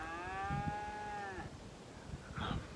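A cow lets out one long, drawn-out moo nearby, followed by a shorter, fainter moo after a pause, from cows moving off near a creek bottom, with a quiet outdoor background.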